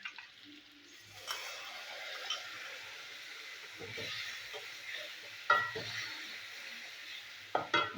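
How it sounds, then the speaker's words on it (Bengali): Vegetables fry in a pan for a light Bengali rui fish curry with lau and bori, a steady sizzle running under repeated scraping stirs and a few sharper clinks of the spatula against the pan, with no talk. "তো সবজিগুলো আমি ভেজে নিই"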